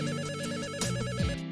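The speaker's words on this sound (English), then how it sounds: "The phone is ringing." A telephone rings in the video game Return to Shironagasu Island, a steady electronic ring pattern repeating loudly and close, alone with no talk, its tone shifting briefly near the end.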